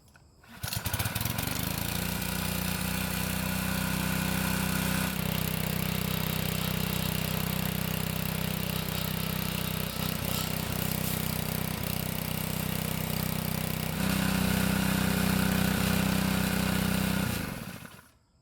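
Small gas engine of a Cub Cadet lawn edger revving steadily at high speed, loud and close, with a brief change in pitch midway before it drops off at the end.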